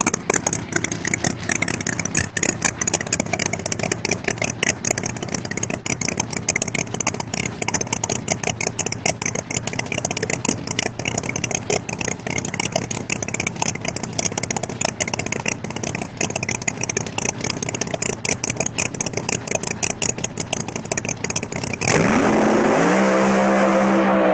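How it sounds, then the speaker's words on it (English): A loud drag race car engine roars continuously at a distance, rising in rapid bursts as it accelerates and its Liberty transmission bangs through the gears, ending in a sharper, harsher burst. "You hear that Liberty transmission bang through all those gears"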